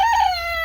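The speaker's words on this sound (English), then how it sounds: "was Snow just crowing" A rooster crows once at close range, a loud sustained harmonic call held briefly and falling slightly in pitch.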